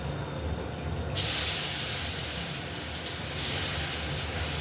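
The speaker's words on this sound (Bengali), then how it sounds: "টমেটোটা আমি আগে গরম তেলে দিয়ে দিই" Tomatoes hit hot oil tempered with black cumin, setting off a sudden steady sizzle that holds loud and even, swelling again near the end, with no talk.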